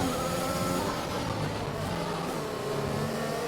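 A train of F1 racing cars in F1 2021 at the Russia round passes as a steady, continuous engine drone with overlapping revving tones throughout.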